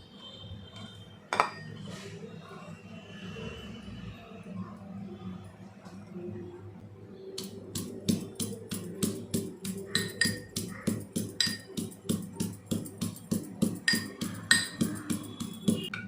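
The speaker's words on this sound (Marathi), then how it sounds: "हे आता आपल्याला खलबत्त्यामध्ये कुटून घ्यायचं आधी" Garlic, green chillies and coriander pounded in a stone mortar and pestle, starting with a few scattered knocks and then settling into a fast, steady run of sharp rhythmic thuds, close and alone.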